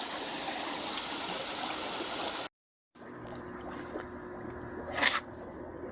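Water flows steadily into a pond converted from a swimming pool, a constant rushing trickle that cuts out briefly. It resumes softer with a small splash, close by and alone.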